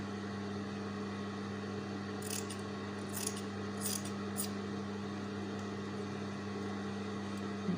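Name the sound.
scissors cutting fabric squares for patchwork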